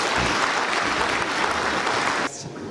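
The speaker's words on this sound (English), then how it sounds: "Can we have a round of applause for courage" A seated audience at a community event at Tait House in Limerick breaks into a dense burst of clapping that carries on for about two seconds and then abruptly thins out.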